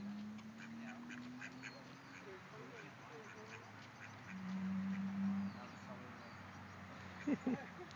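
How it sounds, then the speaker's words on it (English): A group of ducks quacks in the open, a steady low chorus of calls running under someone speaking to a small child, with a few sharper quacks near the end. "Look at the ducks. Quack, quack, quack, quack."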